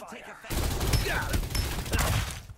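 Dense automatic gunfire in the Farlight 84 video game bursts in after a brief quiet moment and continues as loud, rapid rattling volleys, with someone talking over the shooting.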